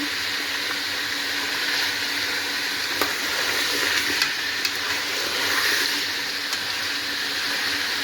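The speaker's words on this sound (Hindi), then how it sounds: "इसको लाइट ब्राउन होने तक फ्राई करेंगे।" Achari chicken frying in a pan, a steady broad sizzle running throughout with faint clinks of stirring, close and moderately loud, no talking.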